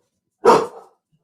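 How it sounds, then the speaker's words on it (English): A dog indoors lets out one sharp, close bark that trails off quickly, then the room falls quiet. "Sorry about my dogs."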